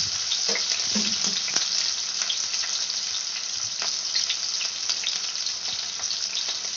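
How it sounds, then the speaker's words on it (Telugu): Cumin, mustard seeds, green chilies and onions fry in oil for a beetroot fry, giving a steady close sizzle with scattered pops and crackles. "అందులో రెండు టేబుల్ స్పూన్ల ఆయిల్ వేసుకొని జీలకర్ర ఆవాలు పచ్చిమిర్చి ఆనియన్స్ వేసుకోవాలి ఇవి బాగా ఫ్రై అవ్వాలి"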